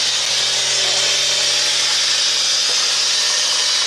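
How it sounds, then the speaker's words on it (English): A whining rear differential on a Mitsubishi Pajero Mini mini truck held at raised revs in 4th gear, a loud constant high-pitched drone over a steady engine hum. "So this whining sound coming from the rear end, what is it?"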